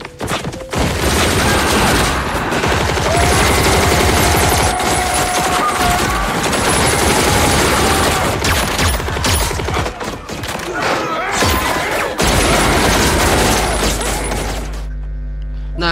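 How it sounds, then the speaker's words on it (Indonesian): Sustained machine gun fire fills a film action scene as an elite squad fires on a gang, loud and dense for about fifteen seconds with booms and impacts mixed in. "keempat teman Markus memberondong tembakan ke arah komplotan Kurt"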